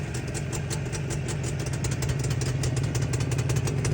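A new retro limited-edition Jawa 640 motorcycle engine runs close by with a rough, pulsing idle that rises slightly as the throttle is opened.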